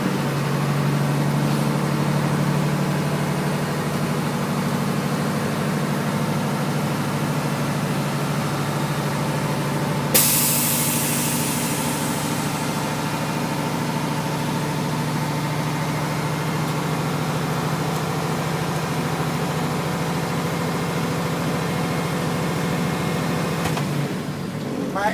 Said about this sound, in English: I will now build my air pressure to maximum capacity.